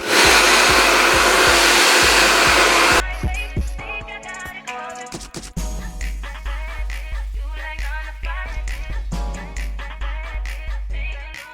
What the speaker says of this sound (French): Je prends mon sèche-cheveux et je vais venir aplatir le tout